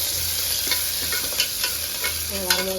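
Steady crackling sizzle of mustard seeds, dried red chillies and curry leaves popping in hot oil, with scattered sharp pops and a low background hum throughout.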